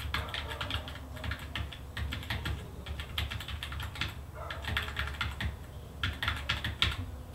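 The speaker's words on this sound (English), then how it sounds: "the keyboard sounds from a previous shot in our film" Fingers tapping the keys of a computer keyboard in bursts of rapid, close typing with short pauses between runs, recorded as sound effects for a film.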